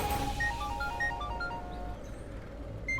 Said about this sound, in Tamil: என்ன ரிஷி ஃபோன் பண்றா?